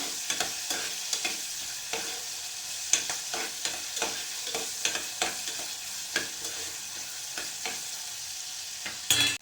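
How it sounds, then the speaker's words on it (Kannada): Onions frying in oil in a pan for soya chunks pulav, with a soft steady sizzle under repeated scraping stirs of a spoon, close and without talk. "ಆನಿಯನ್ನ ಎಣ್ಣೆಯಲ್ಲಿ ಚೆನ್ನಾಗಿ ಫ್ರೈ ಮಾಡಬೇಕು"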